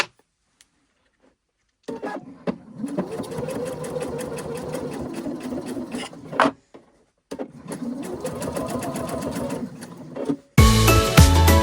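A sewing machine runs a short-stitch construction seam on a fabric Kindle sleeve bag, humming in two steady bursts of rapid stitching with a brief pause between them, close and clear, ending in a sharp louder clatter.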